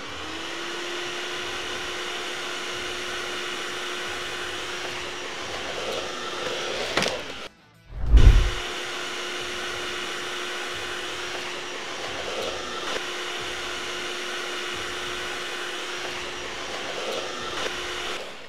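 A Miele Triflex HX1 cordless vacuum cleaner with an electric brush head runs with a steady, close whirring motor hum that dips briefly once, then resumes evenly to the end.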